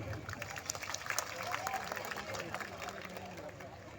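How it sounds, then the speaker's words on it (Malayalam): Audience applause at a Kaikottikali folk dance competition, a continuous dense patter of many hands, moderately faint and somewhat distant, with crowd murmur and chatter underneath. "നമുക്ക് അവർക്കൊരു വലിയ കയ്യടി കൊടുക്കാം"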